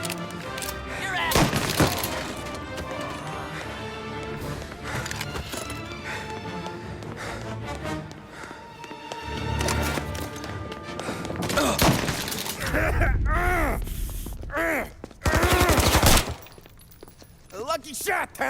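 Sustained gunfire in the Mafia 1 finale shootout, volleys of shots crackling under shouted dialogue and background music, with loud bursts and breaking impacts near the end.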